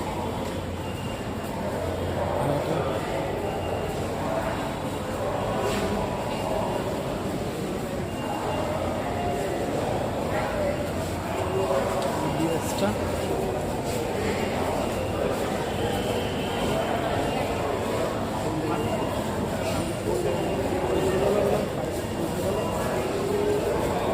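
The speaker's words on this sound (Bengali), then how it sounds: "সারফেসে আছি, সো এই হচ্ছে অ্যাম্বিয়েন্সটা" Steady, dense ambience at an above-ground Dhaka metro rail station on the Pallabi line, with a continuous low rumble of rail traffic and a murmuring crowd of voices throughout, no single sound standing out.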